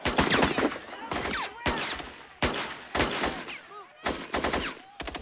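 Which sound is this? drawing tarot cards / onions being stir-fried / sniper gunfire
sniper gunfire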